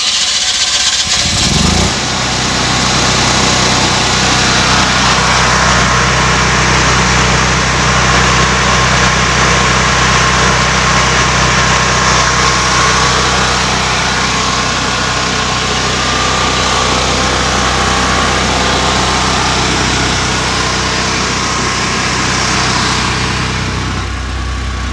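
An 8.5 kW off-grid standby generator runs with no load after a test start, a steady, close engine hum and whine with a brief start-up burst at the beginning, and no talk heard.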